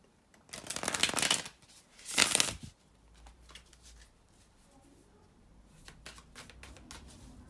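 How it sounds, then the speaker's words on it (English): Two loud riffling bursts of tarot cards being shuffled close up, followed by softer shuffling and handling sounds. "to shuffle the tarot cards"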